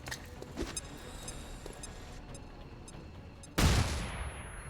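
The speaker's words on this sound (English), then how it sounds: "Grenade!" A grenade bursts in XCOM 2, a sudden loud broadband blast near the end that follows a stretch of quieter game ambience and tonal effects, then decays briefly.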